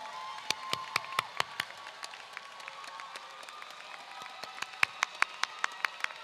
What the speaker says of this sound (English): give your family a big round of applause for the support they've given you over the years.